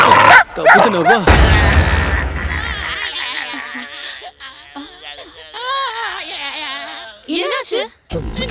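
A dog yips, whimpers and gives short barks in a quick, excited run, close and fairly loud, mixed with a background of people talking over it.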